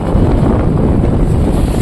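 Strong wind buffets the microphone with a constant low rumble and roar, no voices heard.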